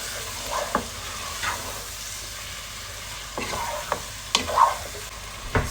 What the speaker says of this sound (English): I'm just going to stir fry that a little bit